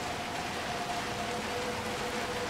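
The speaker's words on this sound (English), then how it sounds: "Let's get out of the rain." Steady, soft rain hiss in the video game Little Nightmares II, a constant wash of falling drops heard alone with no voices.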